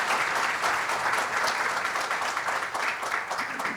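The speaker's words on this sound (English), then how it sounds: "A big round of applause for Maharaj once again." Audience applause for a spiritual teacher at a talk, a sustained wash of many hands clapping at moderate loudness, slightly uneven and fading a little toward the end.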